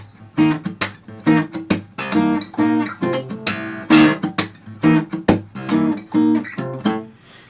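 An acoustic guitar plays the chord walk-up from a song in a live acoustic style, with a run of crisp, rhythmic plucked and strummed chords that ring out one after another, played alone with no talking.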